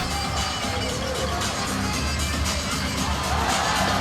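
A basketball crowd at the women's FIBA Asia Championship semi-final between Japan and Chinese Taipei in Wuhan roars continuously, a dense wash of cheering and shouting in a large arena.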